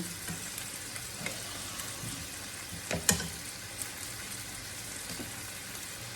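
Wild garlic flowers and leaves stir-frying in a pan with oyster sauce: a quiet, steady sizzle broken by a couple of sharp utensil clinks and scrapes near the middle, with no speech.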